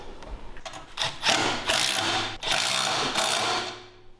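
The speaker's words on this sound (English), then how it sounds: "now we can just tighten up these up here with a 10" A 10 mm wrench tightens nuts on the rear rack of a 105cc mini bike, giving a run of close metallic ratcheting and clicking bursts with short pauses between them, and no talking.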